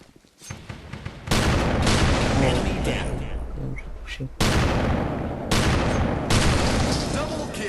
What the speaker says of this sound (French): Là j'ai acheté un autre sniper. Un sniper automatique.